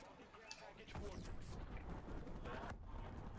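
A grenade goes off in Call of Duty Advanced Warfare on PS3, a faint muffled boom among crackling gunfire in the game mix, with a player talking over it.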